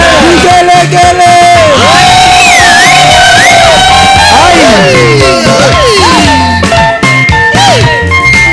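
A congregation at a Pentecostal deliverance church service ululates loudly, with many high, warbling trills and whoops overlapping amid crowd shouting and cheering, close and dense throughout.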